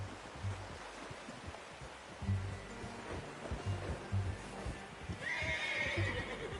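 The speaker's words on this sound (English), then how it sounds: "How's that new horse?" A horse whinnies over a steady outdoor ambience in the video game Red Dead Redemption 2, with soft hoof clops and snorts scattered throughout, a brighter neigh rising near the end.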